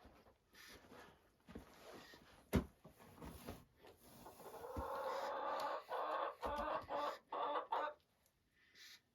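Backyard chickens cluck and murmur nearby in bursts, with a denser run of rapid clucking and brief crowing-like calls toward the middle, plus occasional knocks.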